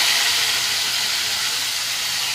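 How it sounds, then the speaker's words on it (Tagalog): Onion and tomato sautéing in a home kitchen pan, a steady loud broadband sizzle and hiss holding evenly throughout with no breaks. "Igisa ko na yung sibuyas tsaka kamatis."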